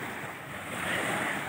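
Sea waves washing onto a clean resort beach, a steady soft roar of surf with light wind, swelling slightly louder toward the end, no voices.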